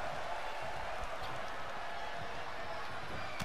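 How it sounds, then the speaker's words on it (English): A virtual arena crowd in the WWE 2K20 wrestling video game keeps up a steady, continuous roar of cheering at moderate volume for the whole stretch. "And now Roman, the crowd behind him"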